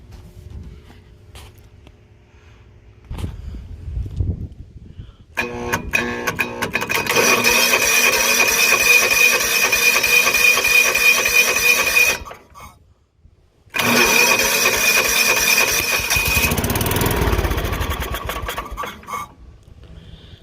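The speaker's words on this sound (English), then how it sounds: "A little bit of a sputter." An old John Deere engine turns over in two long, loud, rough bursts separated by a brief gap. It runs raggedly without catching cleanly, and nobody speaks.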